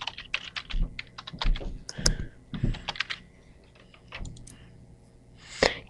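Rapid typing on a computer keyboard, an irregular run of close, crisp key clicks with short pauses and a few louder strokes, heard alone without talk.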